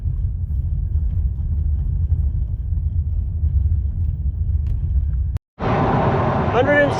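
Supercharged 1UZ V8 Toyota Hilux ute on a road drive, giving a steady low engine rumble for about five seconds, a brief dropout, then louder revving with a rising whine.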